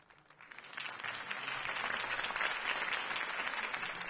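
Crowd applause follows Harvey Dent's campaign speech, many hands clapping in a dense, sustained wash that swells after the first second and holds steady, with no voices standing out.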